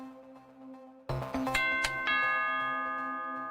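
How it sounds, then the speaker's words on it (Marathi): Doorbell at a home rings with a sharp two-tone chime whose notes overlap and fade slowly, heard fairly close after a soft, steady tone. "तो बेल वाजवतो."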